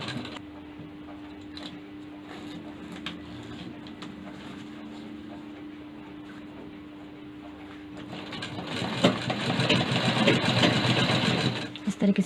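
A sewing machine stitches a seam at the corner of an umbrella-cut lehenga, its whirring run growing loud and steady in the last few seconds after a quieter stretch with a person speaking.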